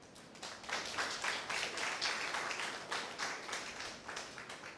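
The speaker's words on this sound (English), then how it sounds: "I think Volta region needs a round of applause for this." Audience applause at a gathering in Ghana's Volta Region, a fairly faint, steady patter of many hands clapping for several seconds, heard from a distance without speech.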